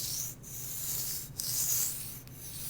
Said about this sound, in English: Right here, the knife is biting the stone.